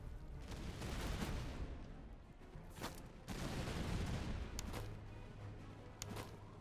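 Musket gunfire rolls across a battle in the strategy game Master of Command, with rippling fusillades and sharp individual shots over a constant low rumble, fairly loud and with no speech.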